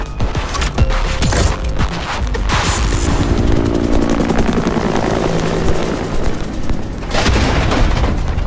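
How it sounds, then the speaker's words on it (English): Grenade and combat explosions in a Rainbow Six Extraction game trailer: loud booms and rapid cracks over a constant heavy roar like a helicopter, dense and close for the whole stretch. "Grenade up!"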